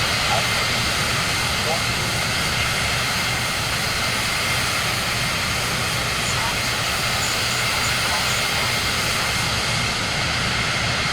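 Aircraft engine drone in Microsoft Flight Simulator 2024 on PS5, a steady broadband roar holding level throughout during a low pass over the Grand Canyon.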